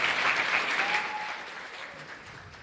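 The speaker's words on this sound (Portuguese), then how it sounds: "Palmas para ele, tá?" A small group of students in a classroom gives a short round of applause for a classmate, loud at first and then tapering off as the clapping thins out.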